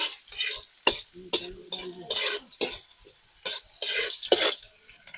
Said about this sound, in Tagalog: Haluhagin lang natin.